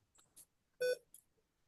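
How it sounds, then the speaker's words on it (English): Short electronic beeps ring out during an online trivia game, a few brief tones with one louder, sustained beep in the middle, clear against near silence. "What's the beeping noise? Is that mine?"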